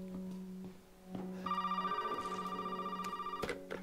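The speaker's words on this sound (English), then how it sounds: "Every time I open the door, flipping phone rings." An electronic telephone rings in the horror video game Resident Evil 7, a steady warbling ring starting partway through and continuing loud and close over a low background hum.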